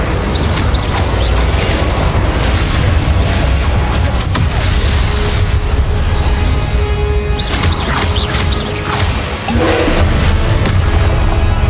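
Incendio spell cast in Hogwarts Legacy, heard amid loud, constant combat din: roaring fiery bursts and booms layered over a heavy low rumble, with brief sharp flares, close and intense throughout.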